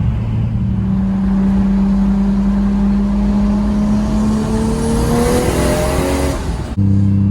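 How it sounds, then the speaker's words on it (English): A 655-horsepower Lexus SC300's engine roars close by on a freeway, its pitch climbing steadily as it revs hard through second gear, then drops suddenly at a shift. "Gonna get on the freeway and do a second gear rip and a third gear rip"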